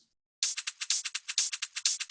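A crisp, steady tech house drum loop of bright hi-hat and shaker hits ticking in a quick, even rhythm after a brief silent start.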